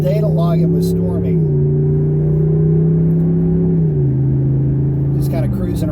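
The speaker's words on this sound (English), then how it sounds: "Just kind of cruising around in this truck" Deep V8 burble from a 2022 Ram 1500 pickup with a 5.7 Hemi and Borla exhaust, heard while cruising, steady with gear-change shifts in pitch. Someone talks over the engine.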